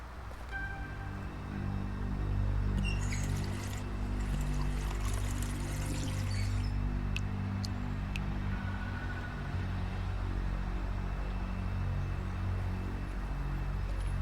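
Water is poured in a kitchen in The Wolf Among Us game, a steady splashing pour over a constant low rumble, fairly close and sustained for several seconds.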